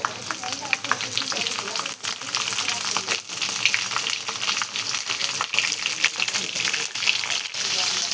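Stuffed capsicum peppers fry in hot oil in a kadhai, giving a dense, steady sizzle that stays loud and close throughout, with scattered sharp pops and crackles.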